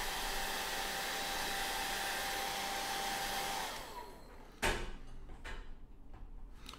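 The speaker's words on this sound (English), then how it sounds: "hit it with the hairdryer fast" A hair dryer blows hard and steadily onto a surface of oil, then cuts off, leaving a few clicks and light handling knocks afterward.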